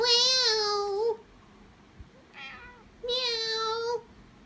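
A pet cat lets out loud, drawn-out meows, two long harmonic cries about two seconds apart with a short, fainter chirp between them, close to the listener in a quiet room.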